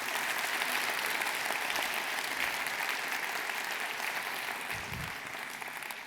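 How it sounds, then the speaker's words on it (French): Audience at a New Year's wishes ceremony in a culture-house hall applauds the elected officials, a steady, dense clapping that holds throughout at a moderate distance, with a few low thumps near the end. "Et vous pouvez les applaudir à nouveau."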